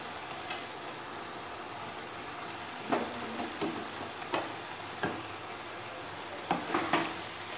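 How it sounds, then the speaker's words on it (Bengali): Shrimp and cabbage fry in a pan with a steady background sizzle, broken by several sharp scraping taps from stirring, each short and fairly close. "এবারে নেড়ে চেড়ে একে দিতে হবে।"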